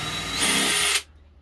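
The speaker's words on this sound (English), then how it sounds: "So we're just drilling these in the sides." Power drill driving screws into the sides of a fridge cabinet, a brief loud whirring burst that rises in pitch and then cuts off abruptly, close by with no speech.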